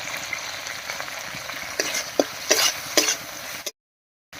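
Spice paste for a shola kochu (giant taro) curry sizzles and fries steadily in oil in a pan, with a few louder stirring scrapes near the end before it cuts to silence.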